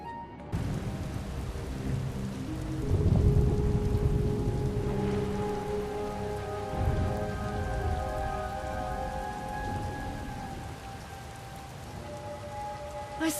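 Steady rain falls in a stormy SWTOR scene from Knights of the Eternal Throne, a dense continuous patter with low rumbling underneath and sustained musical tones layered over it, loud and close throughout.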